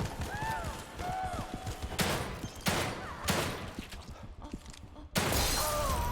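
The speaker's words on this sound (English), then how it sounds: "So, I'm just wasting shotgun shots in that case." Shotgun blasts in the survival horror game The Evil Within 2 land as several sharp, loud bursts spaced unevenly, mixed with game effects and a faint voice.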